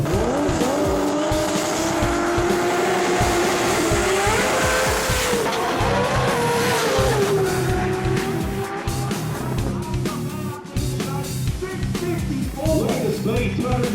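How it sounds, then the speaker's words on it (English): A 2JZ-powered sport compact drag car races in Factory Xtreme competition, its engine roaring loud and continuous with tire squeal and shifting pitch, dense crowd and track noise all around. "World's fastest 2JZ powered sport compact car"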